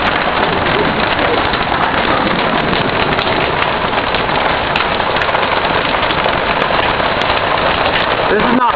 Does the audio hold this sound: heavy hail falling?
yes